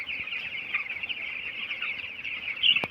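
Twelve-day-old broiler chickens make a steady, dense chorus of soft peeping and clucking that runs through the whole stretch at even volume, with a slightly louder burst near the end.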